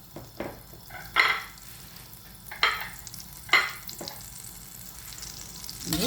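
A burger meat patty fries in melted butter in a pan, with a soft continuous sizzle broken by several sharp bursts of spitting and stirring clatter, close and fairly quiet.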